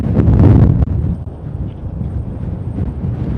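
Strong wind gusts buffet the microphone outdoors at the SpaceX Starbase site in Boca Chica, Texas, loud rumbling roar peaking in the first second, then a steady blustery rush continuing throughout with no talking.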